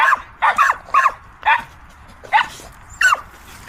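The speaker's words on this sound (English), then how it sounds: "So I have to deal with this excitement of a Springer Spaniel." An excited Springer Spaniel barks in short, sharp bursts, doubled yips then single barks spaced about half a second apart, close and loud outdoors near a river, with no talking.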